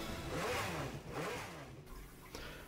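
A Jaguar XJR9 race car in Gran Turismo 7 revs in short surging bursts, rising and falling twice before a quieter tail with a faint blip, heard alone at moderate distance.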